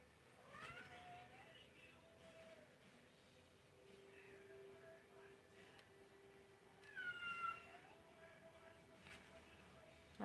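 A female cat meows faintly from another room of an indoor art studio, giving a few thin, drawn-out cries over low room noise, with a slightly louder call later on.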